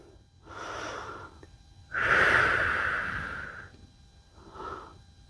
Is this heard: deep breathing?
yes